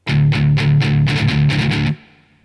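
Distorted electric guitar in a metalcore riff, alternating open-string chugs with octave chords in a fast choppy rhythm: loud, close, with a sharp stop and a short fading ring at the end.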